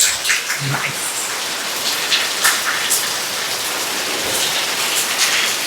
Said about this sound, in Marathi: मुसळधार पाऊस